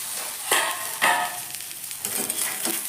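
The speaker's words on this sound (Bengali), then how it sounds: "পেঁপেটা কিন্তু এভাবে একটু ভাজা ভাজা করে নেবো" Pieces of papaya fry in mustard oil with a soft, continuous sizzle, while several scraping stirs of a utensil rise over it at intervals.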